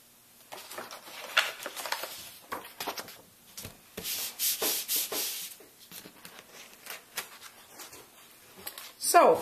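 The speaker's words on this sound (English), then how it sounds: "The watercolor crayon will smoosh if you scrub it with a brush like that." A paintbrush scrubs back and forth over watercolor crayon on paper, giving soft repeated rubbing and brushing strokes, close and fairly quiet, in irregular bursts.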